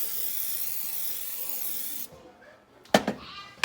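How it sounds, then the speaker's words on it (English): Non-aerosol oil sprayer coating both sides of a bubble waffle maker for low-carb waffles: a steady, loud hissing spray for about two seconds, then a quiet pause and a couple of short sharp bursts. "So I'm going to make sure I spray both sides really good into those bubbles."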